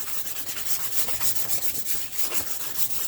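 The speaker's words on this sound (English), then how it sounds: "So I'll cover the page with some willow charcoal." Willow charcoal rubbed across cartridge paper, a steady dry scratchy rasp with quick back-and-forth strokes, close and continuous for about three seconds.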